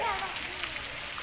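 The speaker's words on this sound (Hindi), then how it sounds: "बारिश खूब हो रही है" Heavy rain pours down steadily over a village, a broad, dense hiss close by, with a voice faintly audible underneath.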